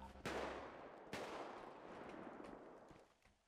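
Gunfire sprays at players during a GTA roleplay shootout: two sharp bursts of shots followed by a sustained, fading rattle of fire, quiet and somewhat distant, with no one talking.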